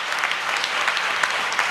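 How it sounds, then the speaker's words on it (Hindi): A women's assembly hall fills with steady applause, many hands clapping at once in an even, continuous wash with scattered louder claps, heard alone without talk. "पूरा सदन ताली बजा के बताए।"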